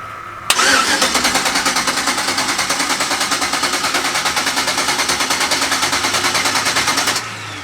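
A 1971 Impala with a turbocharged engine cranks on its first start: the starter churns in a fast, even rhythmic chug for about seven seconds, loud and close, without catching, then cuts off.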